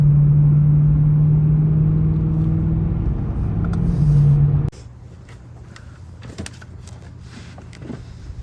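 A BMW E92 M3, recently given a rod bearing job, drives along with a steady low engine drone inside the cabin, then the sound shifts to a quieter, rougher road rumble with a few faint knocks.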